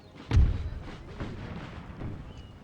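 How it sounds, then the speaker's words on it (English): A single heavy artillery boom in Empire: Total War, loud and close at first, followed by fainter distant thuds and rumbles as the battle carries on. "Begin firing."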